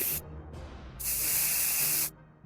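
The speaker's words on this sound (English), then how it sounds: "Let's see if we can spray the bug spray without filling up our bunker and killing ourselves." Bug spray hisses in the survival game 60 Seconds, with a short burst followed by a longer, loud, steady spray of about a second, with no talking.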